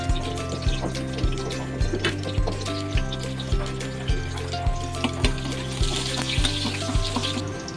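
Garlic, then onion, sizzle in a hot frying pan while cooking mung bean stew, a steady crackling hiss under a repeating rhythmic musical beat.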